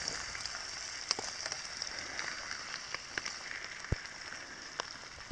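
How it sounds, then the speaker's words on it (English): Light rain falls outdoors at a trout-fishing camp, making a faint, steady hiss with scattered sharper drips and ticks as drops strike nearby surfaces. "It's wet, it's raining"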